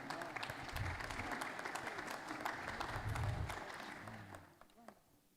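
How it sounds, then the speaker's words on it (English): An audience at a blockchain innovation program event applauds a panel with steady, fairly soft clapping that tapers off toward the end. "Another round of applause for the panel."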